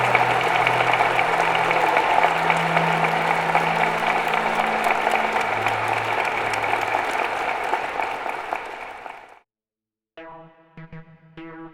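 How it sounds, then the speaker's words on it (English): A conference audience at the DEFCON 20 hacking event applauds General Alexander in a sustained, loud round of clapping that fades out near the end, followed by a short burst of music. "let's have a round of applause for General Alexander."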